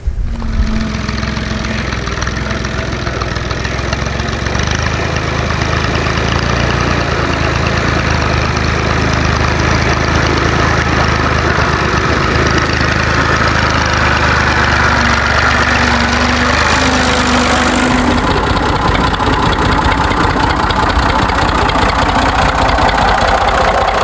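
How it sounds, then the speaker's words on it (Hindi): A tractor engine idles steadily and fairly loud throughout, a continuous low rumble with a mechanical knock, heard alone without talk. "चौरी साहब ट्रैक्टर का गेयर बदले"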